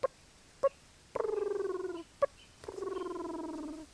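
A voice imitates a turkey: short sharp putts followed by two longer rolling purrs, close and fairly quiet.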